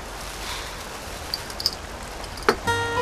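Heavy rain pours steadily as a constant broadband hiss, with a few sharper drips or knocks standing out near the end.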